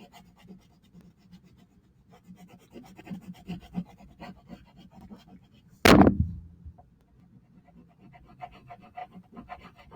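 Wax crayon colored across paper inside a box outline, giving soft, steady rubbing strokes and a low scratchy texture, with one sharp loud knock midway; no one speaks.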